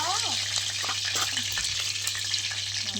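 Cumin and mustard seeds sizzle in hot tempering oil for khichdi rice, a loud, close, continuous hiss with a low steady hum beneath and brief voices over it.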